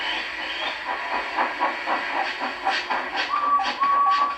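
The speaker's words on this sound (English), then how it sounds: "So they lit his fire, made lots of steam, and Edward puffed away." Rhythmic hissing puffs of a steam locomotive with faint rail clatter, and a brief high whistle-like tone near the end.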